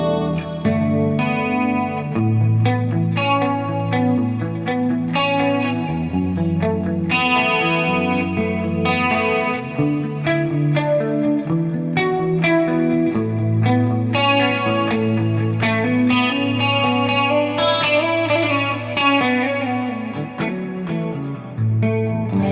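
Electric guitar through a pitch shifter effect on the MF Fever Fractal preset, playing a continuous melodic line with chorus-like shimmer; steady, loud picked notes and chords fill the whole stretch with no voices.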